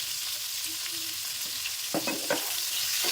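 Vegetables seasoned with turmeric and salt fry in hot oil with a steady, hissing sizzle; a few stirring scrapes and knocks come near the end.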